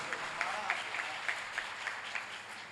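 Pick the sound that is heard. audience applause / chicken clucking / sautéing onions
audience applause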